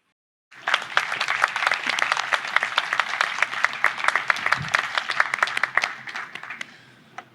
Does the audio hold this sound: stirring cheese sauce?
no